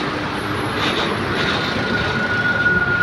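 A metro train runs along an elevated railway track beside the ring road near Badshah bridge, a steady continuous rumble with a high wheel squeal, fairly close throughout.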